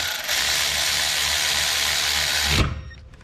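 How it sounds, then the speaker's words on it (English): Ratchet driven by a 6mm stubby tightening bolts on a Yamaha YXZ, a rapid, close clicking buzz held for a couple of seconds before stopping abruptly into quiet. "You grab your 6mm stubby, and then you go ahead and just start tightening them up."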